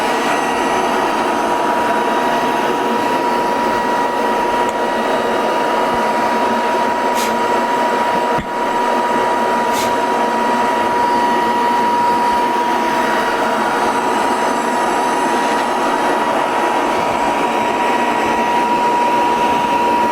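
Aldi Ambiano robot vacuum cleaner running and picking up hair, a loud, steady whirring hum with a constant tonal whine, close by, with a couple of brief clicks partway through.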